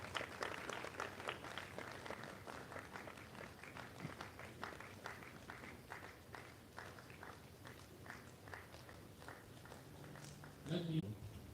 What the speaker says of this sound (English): Please keep clapping until he gets to the table.